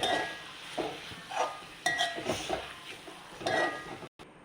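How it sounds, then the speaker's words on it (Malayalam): A spoon works crumbled paneer into masala in a pan for paneer roast, giving repeated close scraping and clinking strokes with a light sizzle beneath, no talking. "അങ്ങനെ നമ്മൾ പനീർ മസാലയിലേക്ക് നല്ലോണം മിക്സ് ചെയ്ത് വെച്ചിട്ടുണ്ട്"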